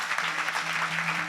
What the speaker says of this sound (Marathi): सर्वात आधी यांच्या आई वडिलांसाठी जोरदार टाळ्या वाजवा.